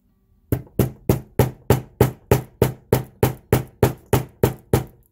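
Light hammer taps on a wire-wrapped heart stone, about fourteen evenly spaced sharp metallic strikes, close and clear, with no talking.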